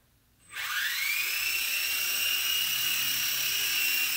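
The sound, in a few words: Blade mCX2 4-channel RC helicopter flying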